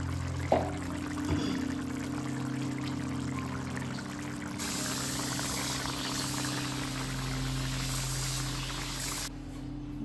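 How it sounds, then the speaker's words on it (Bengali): Fish curry made with salted hilsa and tomato poured from a pan, a brief thick splash near the start followed by a steady liquid hiss and low kitchen hum. "ঢেলে নিয়েছি তরকারিটা"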